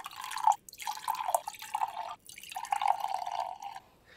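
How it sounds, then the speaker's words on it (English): Water from a Tupperware container is poured into six identical wine glasses in several steady trickling runs with brief pauses between them, a close, ringing sound of liquid filling glass. "first fill the Tupperware with water and then divide it among 6 identical wine glasses"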